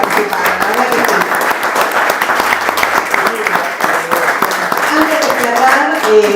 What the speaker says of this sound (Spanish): un aplauso para todos los que participaron